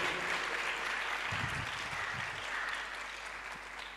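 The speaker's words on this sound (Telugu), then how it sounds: "నాకైతే చప్పట్లు సరిపోలే. బిగ్గరగా బిగ్గరగా." Congregation applause at a Telugu Christian Lent service, a steady broad wash of clapping that holds level for a few seconds and then eases off slightly toward the end.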